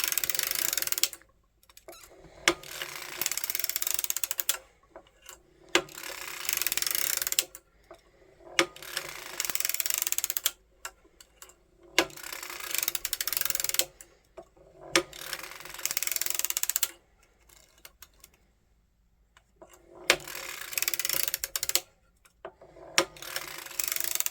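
A hand-cranked circular sock knitting machine clatters and ratchets in bursts of several seconds, separated by short quiet pauses and sharp mechanical clicks, all heard up close.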